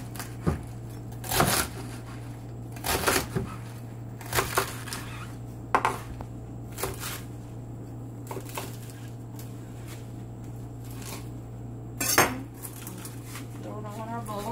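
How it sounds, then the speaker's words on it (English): A knife chops vegetables for a Greek salad, sharp irregular knocks on a board with clinks between them, spaced a second or so apart over a low steady hum. "Just going to chop it."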